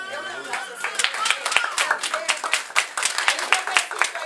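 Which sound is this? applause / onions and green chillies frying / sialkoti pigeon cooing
applause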